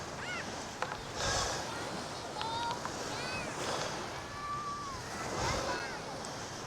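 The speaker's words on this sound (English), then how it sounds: "Very brisk wind, which is going to be kind of nice." Brisk wind gusts across a busy beach with surf washing in steadily, a constant broadband rush under scattered distant voices and bird calls.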